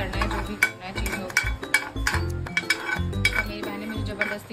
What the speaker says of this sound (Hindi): तो हमें सौंफ को थोड़ा सा ब्राउन करना है